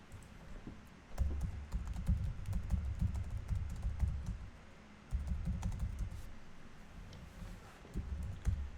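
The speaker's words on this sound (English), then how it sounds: "I don't want people to see what I'm typing." Someone types on a computer keyboard during a livestream, two close bursts of rapid, clattering keystrokes with a brief pause between them and no talk.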